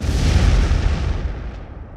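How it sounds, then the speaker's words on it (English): A massive, rumbling explosion roars continuously with deep low-end power, slowly fading as the high crackle thins out toward the end. "the peaceful fields northwest of Imbroni shook with a massive explosion"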